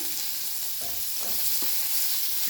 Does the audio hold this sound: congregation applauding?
no